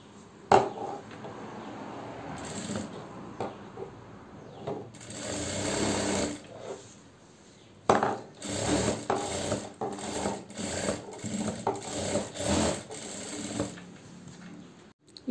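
A sewing machine stitches a half collar neckline on a garment, running in close, loud bursts with short pauses and mechanical rattling between them.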